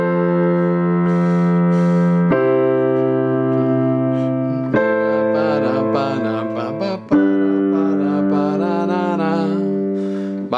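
Piano chords of a song, played as a basic chord-and-bass arrangement, ring out loud and sustained, changing roughly every two to three seconds, with no talking over them.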